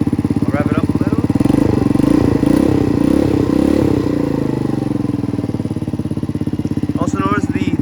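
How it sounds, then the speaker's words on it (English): A 50cc Reckless scooter fitted with a carbon fiber performance exhaust revs close by, its buzzy engine note rising and falling steadily over several seconds with a voice briefly talking over it. "I'll rev it up a little"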